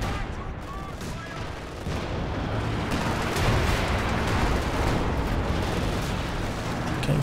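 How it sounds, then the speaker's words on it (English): Long-range 6-pounder anti-tank gun fire in Company of Heroes 2, a loud, sustained wash of gunshots and artillery-like booms with someone talking over the battle noise. "taking a bit of 6-pounder fire"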